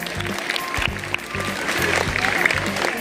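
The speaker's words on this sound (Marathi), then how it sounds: "त्याला याच्यासाठी पण जोरदार टाळ्या होता" Audience applause at a school magic show, a broad wash of clapping that runs steadily through the moment, mixed with voices talking over it.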